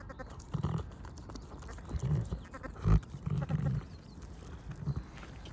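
Sheep during lambing on a Scottish farm, giving several close, low bleats in short bursts over rustling and shuffling sounds of the flock.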